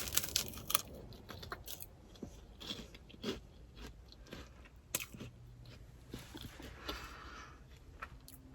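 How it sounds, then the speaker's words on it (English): Close, crunchy bites and chewing of rice cakes topped with protein powder and almond butter, irregular crisp crackles over a quiet room. "And now I have these delicious rice cakes with my protein powder and almond butter."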